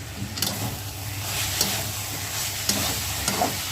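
Methi dal with moong dal cooking in a pan as it is stirred, a steady close sizzle with occasional scraping clicks of the spoon against the pan and a low hum underneath, no talk.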